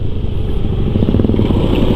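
An automatic scooter ridden through busy morning traffic in Canggu, Bali: a loud, close, continuous engine drone with rattling and road noise throughout.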